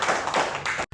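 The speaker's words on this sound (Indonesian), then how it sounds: "Boleh berikan tepuk tangan yang paling meriah untuk Ibu Yesi." Audience at a BPJS Kesehatan Makassar event applauding for Ibu Yesi, a dense close wash of hand clapping that swells in waves and cuts off abruptly at the end.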